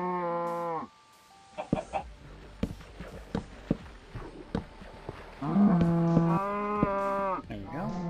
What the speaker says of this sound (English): Goddamn herd of cows outside my house